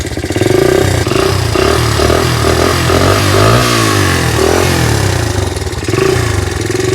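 A 44-year-old motorcycle engine runs and revs loudly up close, its throttle rising and falling in steady swells while it warms up.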